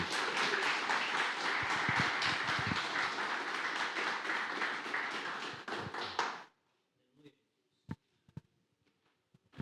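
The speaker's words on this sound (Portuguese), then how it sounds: "Vamos receber com muito carinho, aplaudindo a Jesus, o aniversariante." A church audience at a 75th birthday celebration for a pastor claps steadily for about six seconds, then the applause stops abruptly, leaving near silence broken by a few faint taps.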